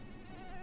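A cartoon mosquito gives a brief, steady, whining buzz with a thin high tone, close and continuous for under a second.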